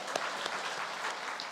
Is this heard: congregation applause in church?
yes